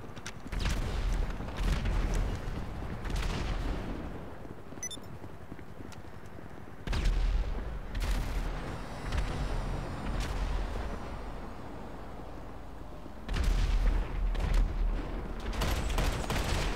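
Gunfire in a GTA Online shootout, with rapid bursts of shots and heavy booms in several clusters separated by quieter stretches of low rumble, loud and close.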